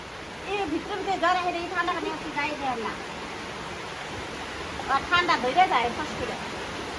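Heavy rain pours steadily in a village, a dense, constant hiss with people talking over it at intervals.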